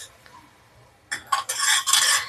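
Semolina being stirred and dry-roasted for kesari, a spoon scraping and clinking against the pan in quick close bursts after a quiet start.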